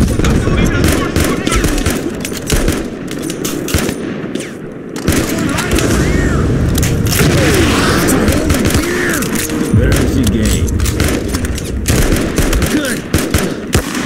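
Dense rapid gunfire and explosions from the war video game Mud And Blood fill the whole stretch loudly and continuously, with voices shouting under the shooting.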